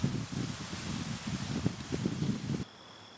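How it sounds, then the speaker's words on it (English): Wind gusts sweep through foliage in soft rushing bursts, a low rustling roar that swells and eases before cutting off abruptly, at a bear hunting site. "There's that wind I was talking about."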